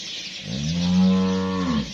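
An Australian Friesian cross dairy cow on a Pakistani farm gives one long, loud, close moo that swells and then tapers off, with no other sound around it.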